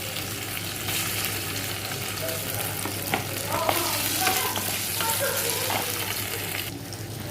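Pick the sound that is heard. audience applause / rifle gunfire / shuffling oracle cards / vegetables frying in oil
vegetables frying in oil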